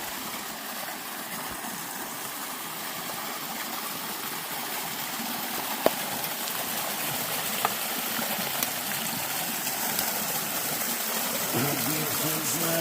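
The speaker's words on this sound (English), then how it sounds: "So check out this waterfall." A mountain waterfall in North Carolina roars with a steady broadband rush through the whole stretch, close and loud, with a few faint clicks over the constant flow.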